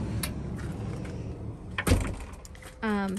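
Side door of a Ford Transit 12-passenger van opening on an icy, muddy winter day, a rattling clunk and slide of the latch and door in the middle, with talk around it.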